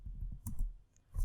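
A computer keyboard being typed on at a command prompt, a quick run of soft, close key clicks lasting about a second, quiet and alone.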